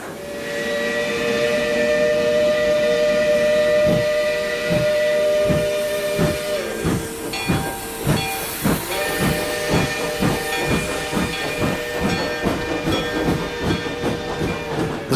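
A steam train whistle sounds in a long sustained blast over loud hissing steam, then gives way to a rhythmic chuffing that picks up pace, a radio drama effect with no voices.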